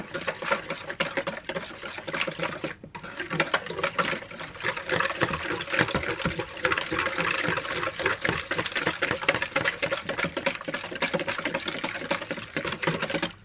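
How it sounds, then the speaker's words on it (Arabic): Spices are stirred into milk for a chicken marinade, a soft continuous wet patter and scraping of a spoon in a bowl, close and fairly quiet with no talk. "هنضيف بقى كل ده على اللبن واقلب"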